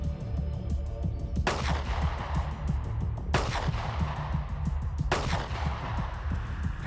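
Three sharp pistol shots from a Taurus G3X handgun fired at a target on a range, evenly spaced about two seconds apart, loud and close with a steady background rumble and no talking.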